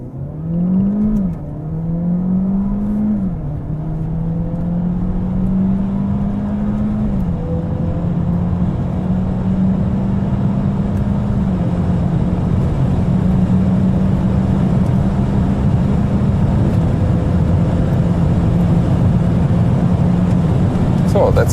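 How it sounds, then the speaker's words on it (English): Peugeot 508 PSE plug-in hybrid, 1.6-litre with 360 horsepower, accelerating hard down a test track straight; a steady, loud engine and drivetrain drone rises in pitch through several shifts, continuous throughout the run. "Let's hit the throttle and see on this test track straight."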